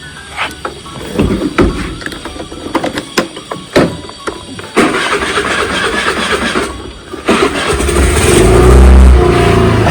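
A small scooter starts up and revs steadily near the end, preceded by clattering handling noises; the engine tone builds and holds as a close, continuous mid-pitched drone.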